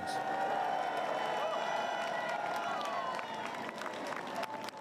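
Crowds lining a closed London street cheer and clap as the Queen's state hearse passes during her funeral, a distant swelling roar of voices and scattered applause beneath speech.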